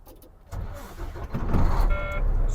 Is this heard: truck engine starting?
yes